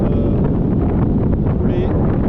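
Wind buffets a boat moving through Patagonian fjords in Chile, a loud, constant roaring rumble across the microphone that holds steady throughout with no break.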